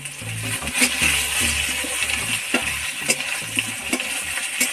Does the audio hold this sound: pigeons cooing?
no